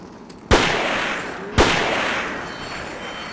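Two loud gunshots from the video game Siren ring out about a second apart, each a sharp crack followed by a long echoing decay, with nothing else heard in between.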